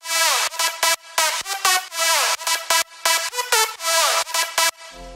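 A bright, harmonically rich synth lead plays a choppy progressive house phrase of short stabs and held notes, with reverb tails swelling and cutting between phrases, and no voices.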